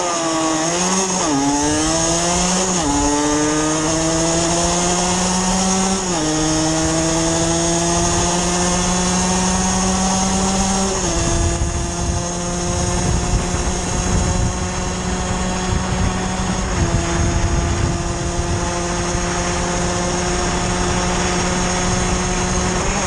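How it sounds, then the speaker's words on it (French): A 50cc MVT motorcycle engine warms up and revs, its buzzing two-stroke pitch climbing and settling several times before holding a steady high drone close by. "Je vais chauffer le moteur."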